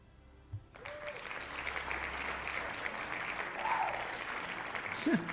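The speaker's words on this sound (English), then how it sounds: "There is also the applause, by the way" An applause sound effect plays during a livestream, quiet steady clapping that starts abruptly after a soft thump and continues with a few faint tonal blips over it.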